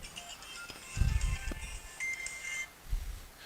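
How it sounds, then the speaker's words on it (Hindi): A phone rings with faint, thin electronic tones that repeat softly over a quiet room, with low thumps of handling in between. "फोन आ रहा है, एक सेकंड।"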